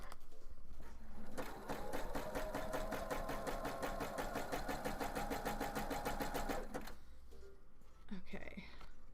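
Sewing machine zigzag stitching on a craft project, a fast rhythmic needle chatter lasting about five seconds between quieter pauses, close and moderately loud.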